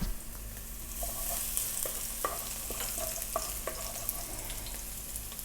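Garlic sizzles steadily in hot oil in a pan while a utensil stirs it with a few distinct scraping knocks, frying for ginisang upo with shrimp.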